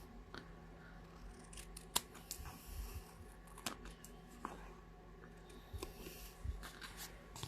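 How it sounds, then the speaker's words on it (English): Good snips fussy cutting around a paper design for a handmade card, giving faint, irregular snipping clicks and soft paper rustles spread through a quiet room. "We are going to bring in our good snips and just fix this with fussy cutting it."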